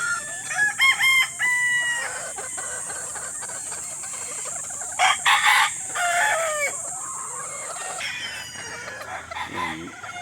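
Gamefowl roosters and hens of several bloodlines, including Super Brown Red, Butcher and Tornado Hatch, crow and cluck repeatedly at close range over a steady background hum, with many overlapping calls.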